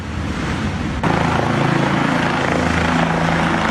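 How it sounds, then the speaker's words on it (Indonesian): A helicopter used for a sea rescue evacuation of stranded anglers in high waves thrums loudly and steadily nearby, its rotor chop constant with a rushing undertone, and no voices. "Tim SAR sebelumnya mencoba mengevakuasi korban dengan menggunakan helikopter milik PT Aman Mineral Nusa Tenggara"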